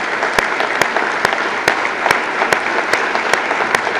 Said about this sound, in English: let's give them a round of applause, our Vietnam veterans and their family members